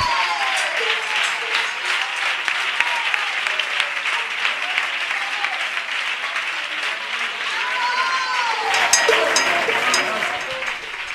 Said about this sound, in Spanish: Ese aplauso es para Dios y debe de ser más fuerte.